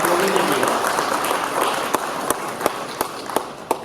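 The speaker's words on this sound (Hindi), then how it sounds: "यार तालियां तो बजनी चाहिए" Applause from an audience at a corporate result-declaration function for the Jagatjit group's FY 2024-25, a dense wash of clapping close by, with a few louder sharp claps standing out near the end.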